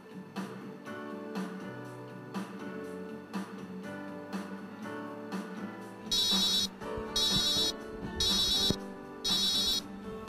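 An electronic telephone ringer on an MT-2000 wireless communication lab trainer trills in four short repeated bursts, loud and close, over a soft tonal background hum.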